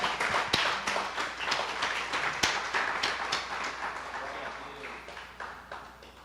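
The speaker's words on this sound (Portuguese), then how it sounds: "aplauda ao Senhor com o seu melhor" A church congregation claps during a worship service, a burst of scattered applause that starts fairly strong and gradually thins and fades over several seconds.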